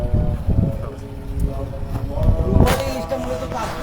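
Onboard a ferry ship on the river at Chandpur, with a low engine rumble, water wash and wind noise, along with brief knocks and a scrape near the end and faint background voices.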